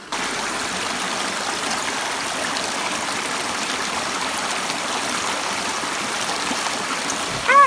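Steady, close stream of flowing water in a natural outdoor setting, a continuous broadband rush and trickle that holds at an even level throughout, with a brief faint sound at the very end.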